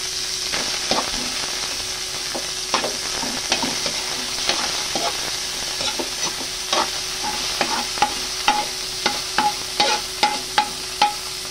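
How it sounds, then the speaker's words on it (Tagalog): Pork meat sautés in a hot pan with a steady background sizzle, while a spatula scrapes and taps against the pan, growing into a quick, regular rhythm of sharp knocks toward the end. "sasutay muna natin yung karne ng pork"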